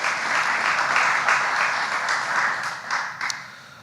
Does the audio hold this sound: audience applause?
yes